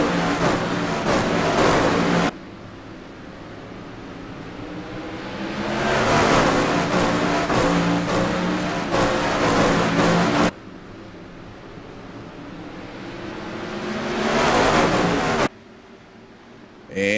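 Sprint cars race at Irwindale Speedway, their engines swelling to a loud roar as they pass close by, then cutting away sharply. Several passes repeat, with a lower engine drone continuing in between.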